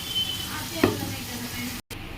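Prawns tipped into a pan of well-cooked frying tomato mixture and stirred, giving a steady close sizzle with a brief louder splash and clatter as they go in.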